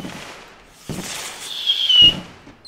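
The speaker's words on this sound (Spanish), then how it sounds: "mira los cohetes" Firework rockets in the video game The Universim: a short whoosh, a rising whistle and a couple of soft pops, fairly quiet and with no voices.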